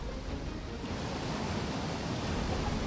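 A river swollen after rain rushes past in a dense, continuous roar of broadband water noise, loud and close with no pauses.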